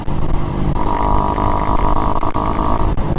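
A Raider 150fi motorcycle running on a stock ECU cruises along the Marilaque road, its engine humming loud and near under rushing wind, the pitch rising slightly as it pulls forward.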